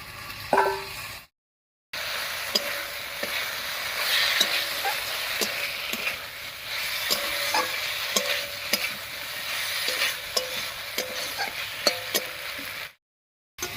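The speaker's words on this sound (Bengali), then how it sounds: "এবারে ভেজে রাখা উচ্ছেটা দেবে আর উচ্ছেটা দিয়ে আরো একটু কষিয়ে নেবো" Fried bitter gourd is stir-fried into spice paste in a pan, giving a continuous close sizzle with repeated clicks and scrapes of a spatula, with no talking.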